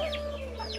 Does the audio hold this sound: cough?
no